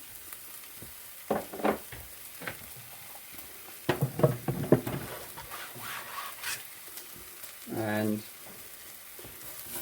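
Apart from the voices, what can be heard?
onions frying and being stirred in a pan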